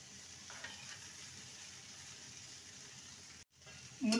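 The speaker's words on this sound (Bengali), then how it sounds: "এবারে কেটে রাখা মূলোগুলো দিয়ে দেবো।" Spiced masala sizzles steadily in a pan as chopped radish goes in, a soft, continuous frying hiss that briefly drops out before a louder burst at the very end.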